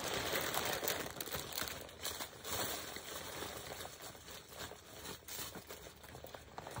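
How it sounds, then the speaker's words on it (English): Packaging from a Temu haul crinkles and rustles up close during unboxing, a busy continuous crackle of handled plastic and paper with no talking. "Crinkling."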